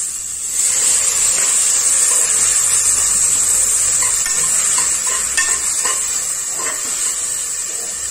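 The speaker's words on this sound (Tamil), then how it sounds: "இப்போ நம்ம சாப் பண்ணி வச்சு டொமேட்டோ ஆட் பண்ணிக்கலாம்." Chopped tomatoes sauté in a pan with mint and coriander leaves for mixed vegetable biryani, a steady close hissing sizzle broken by occasional soft stirring scrapes.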